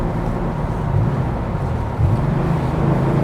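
A 1989 Porsche 911 Type 964 flat-six engine driving, a steady loud low rumble with a slight swell in revs around the midpoint, heard from inside or close by with some wind noise, no voices.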